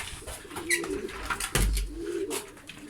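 Pigeons coo in a backyard coop holding male birds, with soft, rolling low calls repeating close by over a few seconds and occasional wing flutters and rustling around them.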